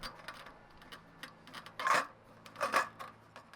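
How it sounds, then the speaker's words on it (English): Vinyl wrap is trimmed for the gear selector bezel of a 2025 Honda Pilot, giving faint clicks and then two closer scissor snips, with no talk over them. "cut the vinyl and wrap it around into the inner side of the bezel"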